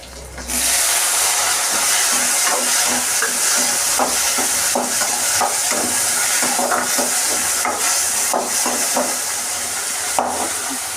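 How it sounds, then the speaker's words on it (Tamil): Tomatoes drop into a pan of fish curry and fry with a steady, loud sizzle and hiss, punctuated by the scrape and clink of stirring, close up throughout. "நல்லா பொங்கி வந்துருச்சு இப்போ வந்து நான் தக்காளியை சேர்த்துக்கிறேன்"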